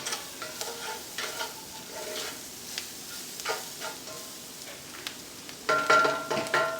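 Flour browning in a skillet for smothered steak gravy, a low steady sizzle with scraping stir strokes throughout, growing louder and busier near the end as the pan crackles more.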